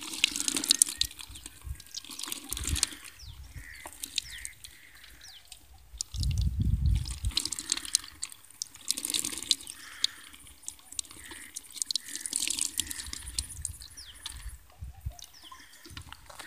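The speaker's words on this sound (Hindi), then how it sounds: "यहाँ पे है मेरे पास पानी और अब मैं इसको थोड़ा सा डैशबोर्ड के ऊपर डालूंगा ताकि जो भी मिट्टी है वो निकल जाए" Water is poured and splashed over the dashboard of an Activa 3G scooter to loosen dirt, in uneven trickling and splattering bursts close by, with one heavier gush partway through and no talk.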